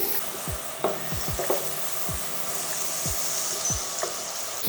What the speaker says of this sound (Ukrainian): На розігріту сковорідку викладаємо масло, даємо йому розтанути.